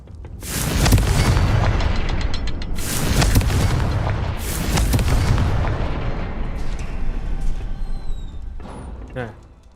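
Repeated Confringo spell blasts from the video game Hogwarts Legacy: several heavy booming explosions with long rumbling tails, spaced a few seconds apart, loud and close, with a voice talking in between.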